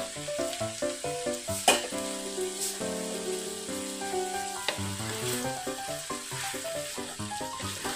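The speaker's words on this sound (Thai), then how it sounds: "เส้นที่เราแช่ไว้เทลงไปเลยครับ เรื่อยๆเลยนะครับค่อยๆผัดไปนะครับ" Soaked glass noodles are poured into a hot pan and stir-fried slowly for a noodle dish with mixed vegetables and minced pork, giving a continuous sizzle and hiss under a loud, melodic music track that dominates throughout.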